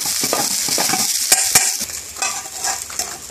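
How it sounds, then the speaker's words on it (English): Basmati rice stirred in a hot frying pan for spinach saag rice in a British Indian restaurant kitchen, loud bright sizzling with rhythmic scraping and knocks of the utensil, close up, no voices. "Put our rice going in. Give it a good mix there."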